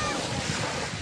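Sea surf at a beach in Antalya churns in a steady, dense wash of breaking waves as the water turns rough around midday, with wind buffeting the microphone throughout.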